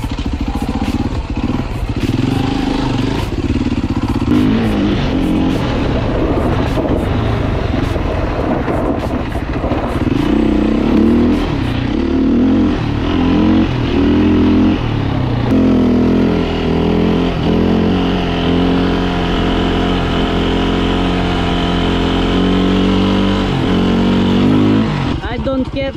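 A dirt bike engine revs hard and close while the bike rides over grass, a loud continuous rasping drone rising and falling in pitch, with someone talking over it.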